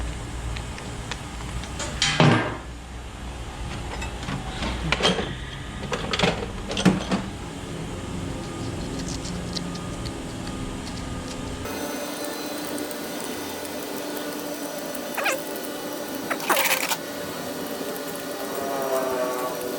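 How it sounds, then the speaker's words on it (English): Metallic clicks and ratchet-like clatter of 10mm bolts being removed from a 5.7L LS1 V8 cylinder head during engine teardown, with a few sharp bursts spread across the clip and a steadier background after midway. "Take these bolts off."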